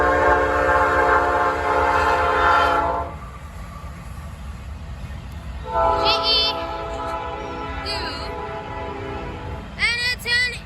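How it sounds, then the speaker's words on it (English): A westbound Norfolk Southern intermodal freight train sounds its horn in long, loud blasts, then again in shorter bursts as it rolls past with a steady rumble, with brief high squeals near the end. "westbound intermodal train."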